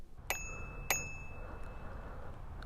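Two bright metallic dings ring out from the handlebar bell of a Hitway BK29M e-bike, close and clear, each leaving a short shimmering decay over a quiet background.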